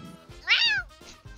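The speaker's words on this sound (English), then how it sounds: "the cat sound effect." Single cat meow sound effect, a short bright rising-then-falling cry lasting under half a second, close and clear over faint background sounds.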